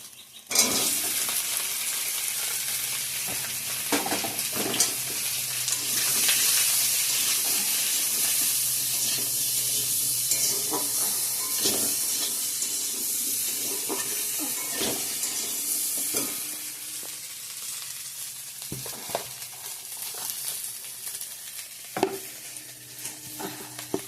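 Potatoes fry in a pan with ginger, cumin, dried chilli and bay leaf. The close, loud sizzle hisses steadily throughout, broken by occasional stirring scrapes and clinks.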